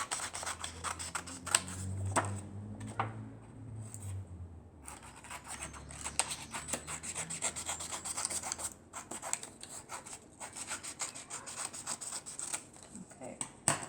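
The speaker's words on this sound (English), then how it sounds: "you just use your scissors to cut out your half circle" Scissors snip and rasp through paper in short repeated cuts, close up, with faint background noise and some low rumbling underneath.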